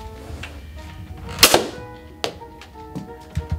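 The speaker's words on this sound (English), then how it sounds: "you press this button and shoot the missile. So I'm gonna shoot it at that window right there." Blastzooka toy launcher firing a foam missile indoors toward a window: one sharp, loud launch burst with a quick whoosh, followed by a fainter thud and a couple of light knocks, with no talking.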